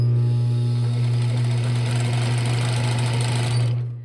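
A sewing machine runs a zigzag stitch along swimwear elastic, a loud, close, steady mechanical hum with rapid needle chatter that holds evenly, then stops abruptly at the end.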